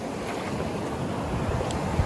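Ocean waves colliding along a beach, a continuous wash of surf and wind noise at moderate level with faint splashes, no talk.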